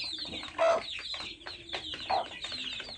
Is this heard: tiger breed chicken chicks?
yes